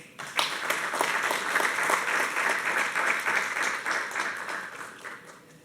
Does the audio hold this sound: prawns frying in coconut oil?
no